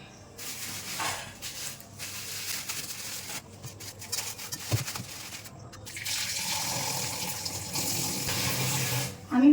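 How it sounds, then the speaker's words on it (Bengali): Tap water running into a sink while chicken meat is washed, a continuous rushing splash that rises and falls as the pieces are handled, with brief pauses and a quiet voice near the end. "তো সবার প্রথমে আমি মাংসটাকে ধুয়ে নিচ্ছি।"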